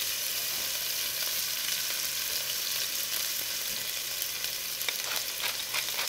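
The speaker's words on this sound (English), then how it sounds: "that nice sizzle. Oh yeah, that's just the wine kind of cooking off there." Prawns sizzle in a hot pan as wine cooks off, a dense, steady hiss of frying with a few small crackles and pops near the end, close and loud, no voices.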